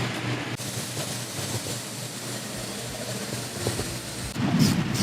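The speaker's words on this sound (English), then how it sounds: "The thunder's getting bad. It's like thunder, lightning." Thunder from a storm rolls as a continuous, deep rumble that fills the whole stretch and swells louder near the end, with no voices.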